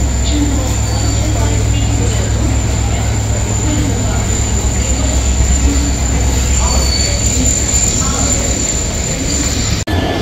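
A Tourist Express hauled by a WDP4 diesel locomotive stands at a platform at Siliguri, its engine giving a loud, steady low rumble and drone throughout, with a sharp click near the end.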